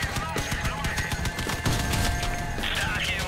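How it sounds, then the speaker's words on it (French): Rapid gunfire from the player's armed vehicle in the video game Crossout, dense bursts of close, loud shots in a continuous fusillade, with a voice talking over part of it. "Mais moi, je tire, les amis, je tire."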